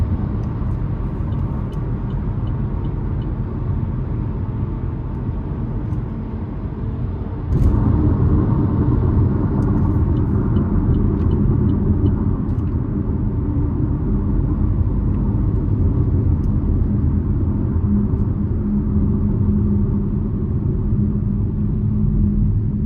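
A Chevy Trailblazer LT rolls along the road, its low engine and tyre rumble steady and subdued from inside the cabin, stepping up slightly in loudness partway through and holding an even drone.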